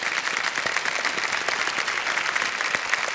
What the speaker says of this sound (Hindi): तालियां एक बार फिर बज जाए उनके लिए